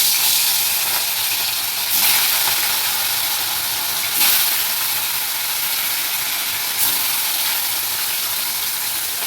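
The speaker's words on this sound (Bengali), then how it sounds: "আমার কড়া গরম হয়ে গেছে, তেল দিয়ে দিয়েছি, তেল গরম হয়ে গেছে, আমি মাছগুলো ভেজে নিচ্ছি।" Rohu fish pieces fry in hot oil in a kadai, giving a steady, close hiss that swells briefly about every two seconds as the pieces are moved.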